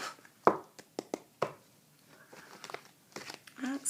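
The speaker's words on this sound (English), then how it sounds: "Let's give a little shuffle." Tarot cards are shuffled by hand in sharp, irregular riffles and taps, close and moderately loud, with soft rustling between the bursts.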